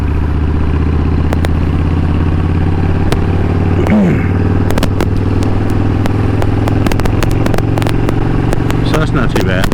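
A motorcycle being ridden, its engine a steady loud low drone with rumbling harmonics, wind buffeting and scattered clicks and rattles over the whole stretch.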